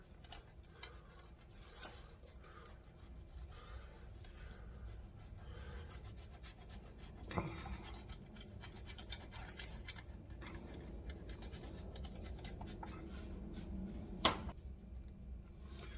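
Parmigiano Reggiano being grated on a fine shredder, giving a quiet, irregular scraping and rasping with a few sharper knocks and taps of the grater, up close and without talk.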